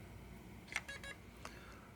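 A Philips Sonicare 4100 toothbrush charger gives two short, faint electronic beeps in close succession, followed by a soft click, over a quiet background hiss.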